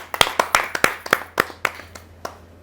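Audience at a kavi sammelan poetry gathering welcoming a poet with claps: about a dozen sharp, separate hand claps in a loose uneven rhythm, close and clear, thinning out toward the end.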